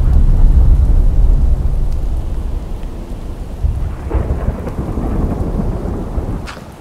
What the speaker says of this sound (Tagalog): Hintayin ko muna tumigil tong ulan na to.